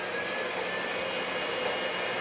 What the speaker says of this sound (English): Blend on low for a little bit.